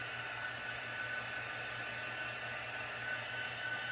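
A dryer blows steadily to dry chalk paste on a craft project, a constant airy whir with an even hum, moderately close and uninterrupted throughout.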